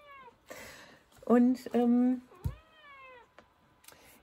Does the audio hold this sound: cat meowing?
yes